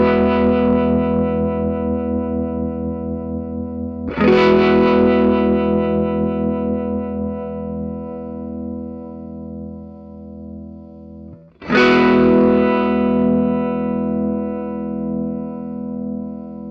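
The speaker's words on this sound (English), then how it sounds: "A harmonic tremolo modulates the high frequencies up when the low frequencies are down, the low frequencies up when the high frequencies are down." Sustained guitar chords run through a Chase Bliss Gravitas harmonic tremolo pedal, giving a pulsing, throbbing modulation. Each chord is struck fresh and rings for several seconds, with no voices present.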